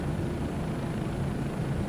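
Bell 407 helicopter flying in Microsoft Flight Simulator 2024, a steady low rotor and turbine drone that holds at an even, moderately loud level throughout with no talking.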